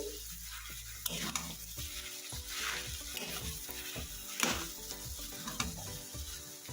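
Kadhi vada batter with added salt being mixed by hand in a bowl, giving soft repeated wet stirring and squelching strokes at close range, with no talking.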